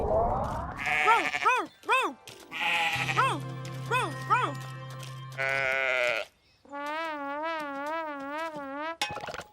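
Cartoon sheep bleat in repeated wavering cries, some short and rising, ending in one long trembling bleat, loud and close with a steady tone beneath.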